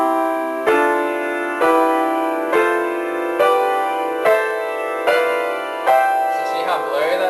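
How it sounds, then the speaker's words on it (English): Piano chords played with the sustain pedal left down between changes, a steady series of about eight struck chords blurring into each other in a continuous ringing wash. "Now if I didn't change the pedal on the and, it would sound like this."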